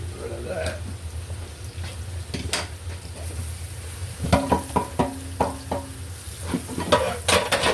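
A pot of broth with mushrooms and onions being stirred on a kitchen range, with soft simmering and bubbling under a series of sharp spoon scrapes and clinks against the pot in the second half.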